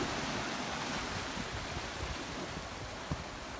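Ocean shorebreak at Kua Bay, a continuous broadband wash of surf rolling and churning close by, steady and loud for the whole stretch with a small splash near the end.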